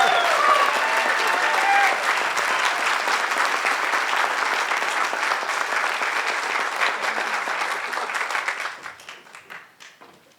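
An audience at an award ceremony bursts into sustained, dense applause that holds steady for several seconds before thinning into scattered claps and fading out.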